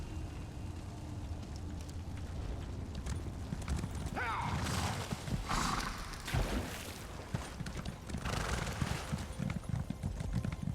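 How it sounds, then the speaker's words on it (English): Horse at maximum speed in The Elder Scrolls Online, with rapid, loud clip-clop hoofbeats that begin softly and build into a fast, pounding gallop, broken by a few bursts of harness and gear noise. "This is what happens when you max out your horse. This is top speed."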